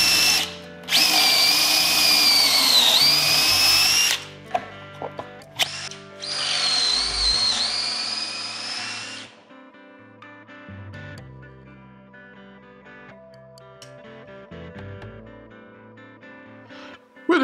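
Power drill boring holes through wood held in an Armor Tool pocket hole jig, two loud high-pitched whining bursts of a few seconds each, followed by quieter clunks and handling noises with the tool spinning down.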